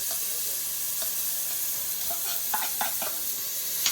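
Shallots and garlic fry in butter in a pan, a soft continuous sizzle with light stirring taps and clicks near the end, heard alone at moderate level.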